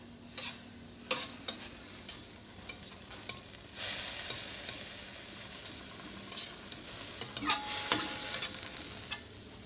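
Garlic added to onions already cooking in a pan for Asian shrimp cauliflower rice, sizzling and frying with stirring scrapes, the hiss swelling louder and brighter midway as the garlic hits the hot fat.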